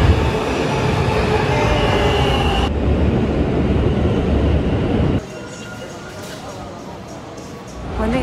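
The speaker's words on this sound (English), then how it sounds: "It's my subway." A subway train rumbles loud and continuous, with the roar shifting in character partway through and settling into a quieter steady hum near the end, as heard from on board.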